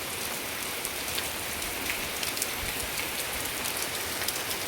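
Steady rain pours down in a village near Kutiyana, a dense, even patter of drops close by with no voices.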